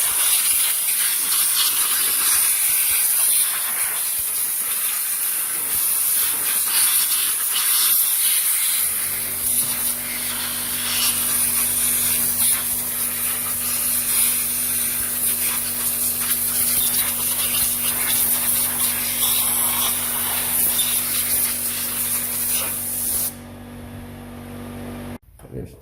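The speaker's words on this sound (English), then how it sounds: "I'm just going to go ahead and blow mine out." Compressed air blasts dirt out of an Audi Q3 oil separator, a loud continuous hiss that runs nearly the whole time, joined partway through by a steady lower mechanical hum, then cuts off near the end.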